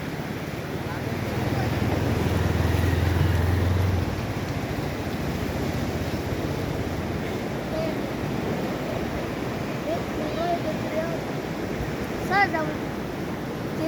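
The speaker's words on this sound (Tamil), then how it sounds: "வரலாறு காணாத தண்ணி போகுதுங்க இந்த வருஷம்" A steady, broad roar of rushing floodwater in the Sankarabarani river fills the scene, constant and loud, with a low rumble and faint bits of voice underneath.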